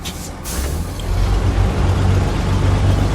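A white Western Star truck with a V8 turbo diesel engine runs close by in a deep, steady rumble, after a brief hiss at the start.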